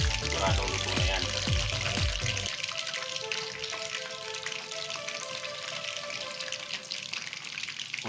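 Pork belly for lechon kawali fries in hot oil with a steady crackling sizzle. A burst of louder bubbling pops opens the sound, then it settles into a dense, even hiss.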